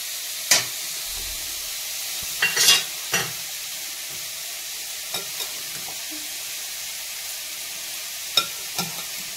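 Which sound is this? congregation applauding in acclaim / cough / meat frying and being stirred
meat frying and being stirred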